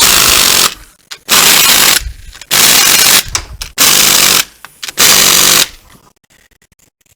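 Pneumatic air impact gun working on a 4L60E automatic transmission in a transmission build shop: five loud, dense rattling bursts of about half a second each, separated by short pauses, then quiet.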